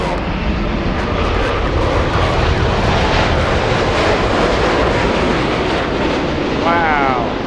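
An American Airlines airliner on the runway at LAX, its engines giving a loud, steady broadband roar that fills the whole span, with a voice talking over it and a brief tonal whine near the end.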